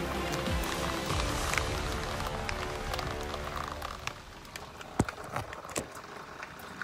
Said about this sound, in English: it just started to pour rain